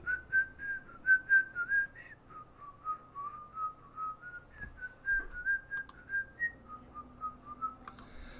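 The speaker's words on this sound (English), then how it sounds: "I know whistling can be very annoying on the microphones here" A person whistles a tune for about eight seconds, a steady melodic line of short repeated notes over a quiet background during a Vintage Cube card game session, with no talking.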